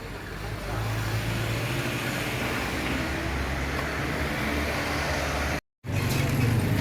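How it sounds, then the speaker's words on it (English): Street traffic in Marrakesh, Morocco, keeps up a steady roar of passing cars and engines nearby, and the sound cuts out briefly near the end. "you got the noise of the traffic"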